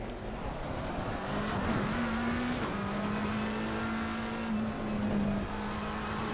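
A steady, droning race car engine in Assetto Corsa Competizione, heard from inside the cockpit, holding a constant pitch with a slight dip partway through, no voices.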